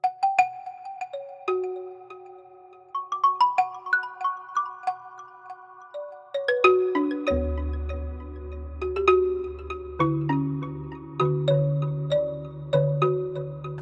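Sampled xylophone struck with a medium mallet, Soniccouture instrument, plays a melodic line of ringing wooden notes that thickens into sustained tremolo with a deep low layer, loud and close, no talking.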